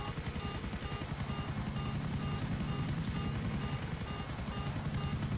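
A helicopter in the video game GTA IV flies overhead, its rotor making a steady, loud, rapid chopping beat with a whining engine buzz that lasts throughout, with no talk.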